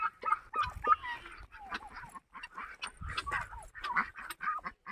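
Chickens cluck and chatter softly nearby, a scattered series of short calls with some faint background noise.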